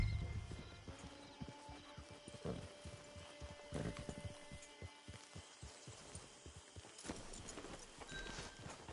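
Horse hooves clip-clop steadily in Red Dead Redemption 2, a rhythmic trot of close, moderately loud footfalls near a camp, with a faint whinny and light clinks of tack in the background.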